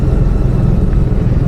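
Triumph Speed 400 single-cylinder motorcycle ridden through town at about 30 km/h in fourth gear, a low, even engine rumble at low revs, close and steady for the whole stretch with no voices.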